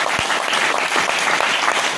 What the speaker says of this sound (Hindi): आप लोग एक बार अपने लिए ताली बजा लीजिए